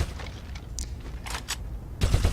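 A heavy bolter is fired from the hip in a video game, producing a short series of sharp, separated bursts of gunfire, moderately loud, ending in a heavier cluster of shots.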